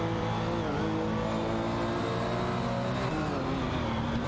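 Race car engines in a racing video game drone steadily and loud throughout, with overlapping revving tones that shift in pitch as cars jostle and overtake, continuous with no pauses.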